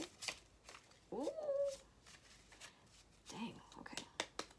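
A deck of tarot cards is shuffled in soft, rapid riffling bursts close by. A cat meows once in the middle, and a quiet voice whispers.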